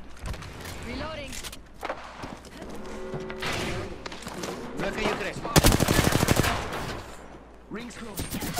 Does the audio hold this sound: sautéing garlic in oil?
no